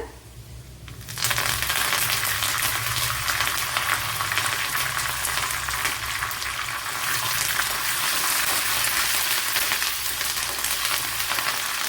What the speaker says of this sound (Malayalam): അതേപോലെ കറി ലീവ്സ് ഇട്ട് കൊടുക്കുക